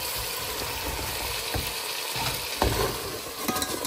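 Chicken pieces tossed in hot sauce make wet, sticky rustling and a few sharp knocks as the container is shaken, steady and close with no voices.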